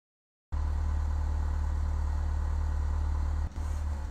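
Steady drone of a simulated light aircraft engine running on the ground in the FSX flight simulator, loud and continuous after a short silent start, with a brief dip near the end as it begins shutting down.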